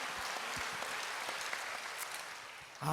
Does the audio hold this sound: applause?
yes